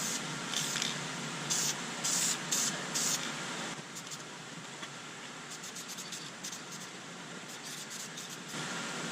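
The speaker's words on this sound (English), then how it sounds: "I just want to make sure that I'm kind of misting everything." Spray paint misting onto interior plastic, vinyl and leather, with short hissing bursts that become a longer, steadier spray, close up and without talk.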